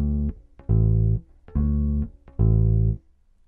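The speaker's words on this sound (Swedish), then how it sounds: "Det andra kompet, som också kallas för växelbaskomp," A bass guitar plays an alternating-bass accompaniment, each note muted with both hands. Long low notes alternate with short damped plucks in a steady rock pattern, close and solo.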